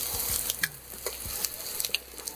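Green chillies and ginger sizzle in a pan for lauki aloo sabzi, a close, steady frying hiss with scattered crackles and stirring clicks, no talking.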